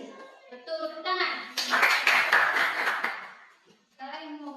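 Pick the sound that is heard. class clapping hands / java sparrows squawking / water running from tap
class clapping hands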